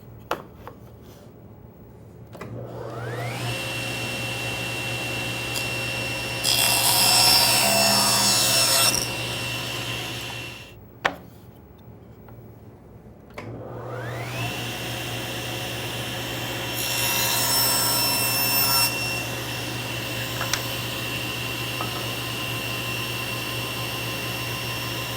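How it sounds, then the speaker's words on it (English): A table saw spins up and rips through 3 by 12-inch wooden pieces with the blade tilted to 45 degrees, two cuts in turn, each a rising motor whine followed by a louder rasping bite into the wood, with no talk. "And do the same thing when I cut these 3 by 12-inch pieces as we did with the table saw blade set at 45."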